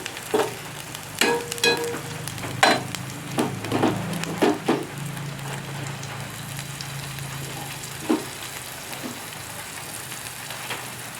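Onion goes into a pan of garlic fried light brown for chicken soup in a village kitchen, producing a moderate sizzle broken by sharp clicks and clatters, with a low hum underneath.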